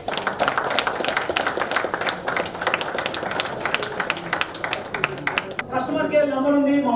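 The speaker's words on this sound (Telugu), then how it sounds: "just give a clap for" An audience applauds at a mobile app launch event, with brisk, crowded clapping for several seconds that then stops as a speaker starts talking.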